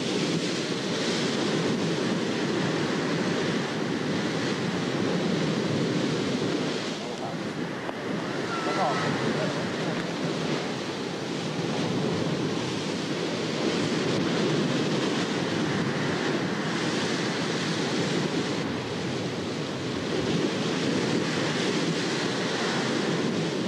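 Ocean surf on the beach at Sylt where windsurfers ride through the breakers, a loud, continuous roar of waves mixed with heavy wind buffeting the microphone, with no clear breaks.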